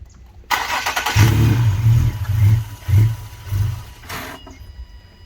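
An Infiniti G37 sedan, fitted with new aftermarket intakes, cranks and fires up nearby, its engine surging in several uneven pulses over about four seconds before settling.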